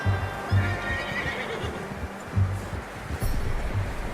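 A horse in Red Dead Redemption 2 snorts and whinnies amid soft hoof clops and low rumbling, with several short bursts close by over a steady outdoor background.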